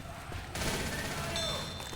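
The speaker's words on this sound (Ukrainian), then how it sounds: "Коли ти стріляєш в такому вузькому пространстві" Gunfire from the Left 4 Dead video game in a narrow space, a dense fusillade of rapid automatic shots with echoing bursts, loud and continuous after a brief quieter opening.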